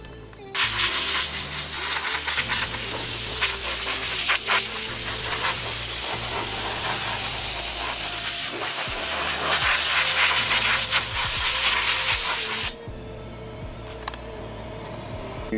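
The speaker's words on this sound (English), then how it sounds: "you wanna get you a blower, and blow all this sand and dust" Air blower blasting sand and dust off a helmet before priming, a loud, continuous hiss of rushing air sustained for about twelve seconds before cutting off abruptly.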